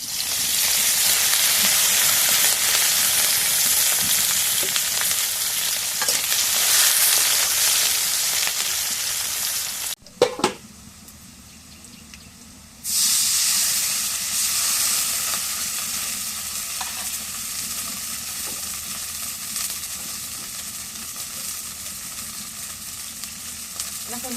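Green chilli paste sizzles loudly in hot oil, a steady broadband frying hiss that cuts out briefly partway through, then resumes a little quieter with faint stirring.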